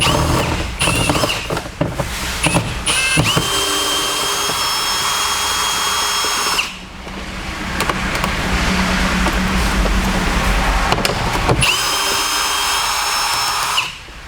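A power tool whirs loudly while removing bolts from a 2015 Mustang door panel, with short trigger bursts at first, then two long sustained runs separated by a brief pause.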